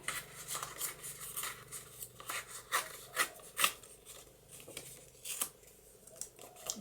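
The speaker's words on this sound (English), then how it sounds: "I'm going to tear down here." Paper from a card-making paper collection being torn by hand along a line, heard up close as a series of short dry rasping rips and rubs with uneven gaps, quiet overall and with no talking.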